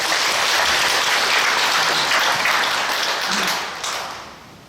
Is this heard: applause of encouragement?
yes